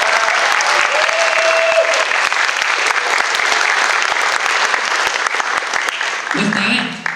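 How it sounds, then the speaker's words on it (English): Sustained audience applause at a Chinese Culture Night show, thanking the production crew and performers; dense, steady clapping from a large crowd that carries on throughout and thins slightly at the very end. "one more round of applause for production and performers."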